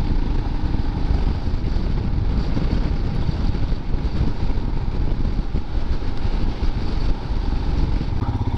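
A 2021 Royal Enfield Himalayan motorcycle engine drones steadily while riding along small country roads, a continuous close rumble mixed with wind buffeting and no speech.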